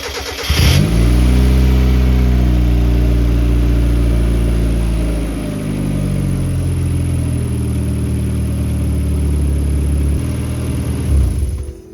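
A turbocharged 1.8 Mazda Miata engine cranks and fires, then runs loudly up close, its idle rising and wavering in pitch before settling into a steady rumble.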